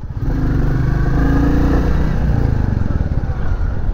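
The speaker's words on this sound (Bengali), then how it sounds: "349 সিসির এই বাইকটা আসলে বোঝা যায় যখন আপনি টানবেন" A Royal Enfield Bullet 349cc motorcycle engine running steadily up close, a deep throbbing thump with a slight rise in revs, no voices.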